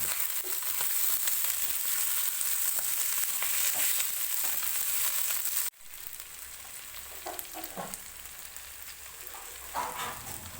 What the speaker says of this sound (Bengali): এবার আগে থেকে কেটে রাখা টমেটোটি মাংসের সাথে দিয়ে ভালো করে নেড়ে নিতে